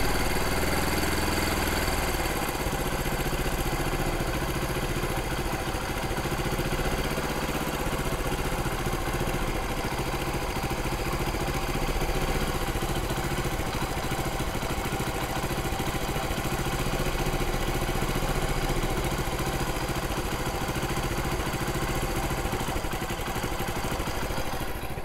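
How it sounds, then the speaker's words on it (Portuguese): A carburetor engine idles steadily with a loud, continuous mid-pitched drone and vibration while its idle is being adjusted down from a slightly high setting. It runs unbroken for the whole stretch, with no voices. "Dando uma regulada nesse carburador, tava com a lenta um pouco alta."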